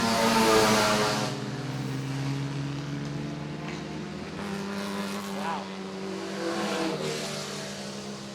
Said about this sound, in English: that's Craig Seifert in the yellow Bug Eye Sprite